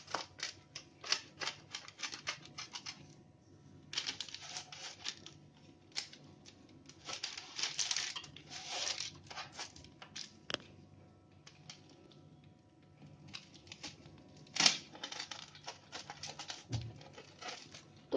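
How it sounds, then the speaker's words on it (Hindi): A pizza cutter slicing through a pan of homemade roasted granola bars, giving short crisp scraping and crunching strokes in irregular bursts, close and fairly quiet, with no talking. "अब हम इससे काट लेते हैं पिज़्ज़ा कटर से"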